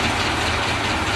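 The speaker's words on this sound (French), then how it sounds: "Là c'est le bruit moteur." A Renault 11 car engine runs steadily with a dense, continuous rumble and hiss, loud and even throughout.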